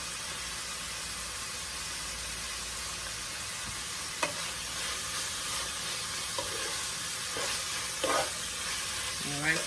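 Cabbage frying in a pan gives a steady, soft sizzle and hiss with occasional scraping stirs and light clinks, heard on its own without talking.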